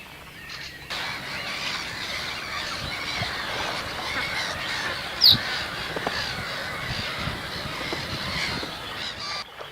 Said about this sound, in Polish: śpiewem i krzykiem ptaków ukrytych w drzewach i wodnych, wśród których najgłośniejsze są mewy śmieszki